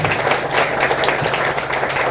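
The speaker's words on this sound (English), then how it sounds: "Could you give a round of applause to my leading roles and my director?" Audience applause at the 2019 Falcon Foundation Hall of Fame ceremony, a dense, steady wash of many hands clapping in a hall, sustained and fairly loud throughout.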